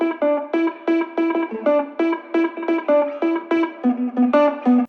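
Funky, staccato lead guitar line picked note by note with palm mutes, each short plucked note sitting in a steady repeating rhythm, dry and close with a light effects sheen, alone without talk.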